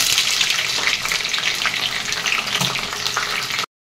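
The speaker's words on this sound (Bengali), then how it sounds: "ওই তেলেই আমি দিয়ে দেব একটা শুকনো লঙ্কা আর 5 কোয়া রসুন আর অল্প আদা আর দুটো টমেটো কেটে নিয়েছি।" Dry chilli, garlic cloves, ginger and chopped tomatoes fry in hot oil, producing a dense, continuous crackling sizzle with a few soft stirring knocks, close up, before cutting off abruptly near the end.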